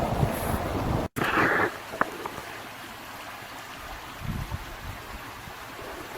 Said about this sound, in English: Little bridge, little creek.